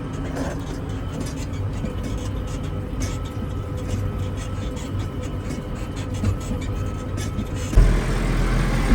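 A heavy tractor engine drones steadily at close range, low and rumbling, with faint voices and a bump near the end.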